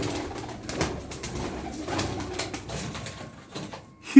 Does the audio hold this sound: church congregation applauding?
no